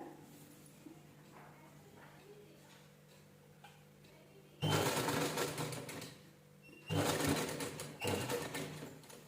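A sewing machine stitches trim onto a blouse in two loud whirring bursts with a brief pause between, after a stretch of quiet ticking and low room hum.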